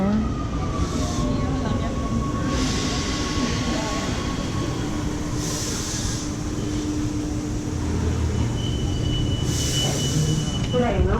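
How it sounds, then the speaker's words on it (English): A Rome metro train pulling into Lepanto station, a loud rumbling roar with rising and fading squealing tones as it approaches, under echoing platform ambience and occasional chimes. "And here's the train, and approaching."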